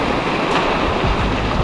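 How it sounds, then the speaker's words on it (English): Small ocean waves wash onto a beach at El Nido, Palawan, a loud, continuous broadband surf roar with rolling swells and no voices. "there's actually some waves today"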